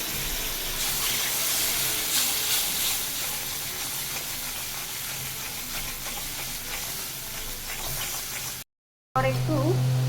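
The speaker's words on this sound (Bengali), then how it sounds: "জল দেবো।" Prawn masala frying in a hot pan hisses and sizzles steadily and close up as water goes in, with stirring scrapes throughout, then a short gap and a burst of voice at the end.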